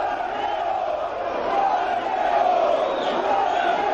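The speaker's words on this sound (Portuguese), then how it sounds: "Torcida gritando frangueiro." A football stadium crowd chanting in unison at the opposing goalkeeper during a Guarani match, a dense, sustained roar of many voices heard from a distance without a break.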